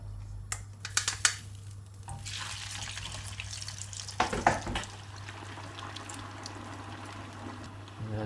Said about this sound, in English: We're going to put our chips in there, and they are going to be cooked in 3-4 minutes, 5 tops